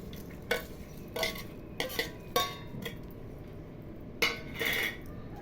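Roasted peanuts and curry leaves are stirred into a hotel-style ivy gourd (dondakaya) fry, with a spatula scraping and knocking against the pan in repeated strokes over a quiet sizzle.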